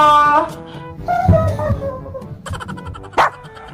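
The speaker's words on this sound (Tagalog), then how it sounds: "Pero bakit tumatahol siya?" A dog barks and yips at night, a short run of sharp, close barks with whimpering tones between them, loud and fairly continuous.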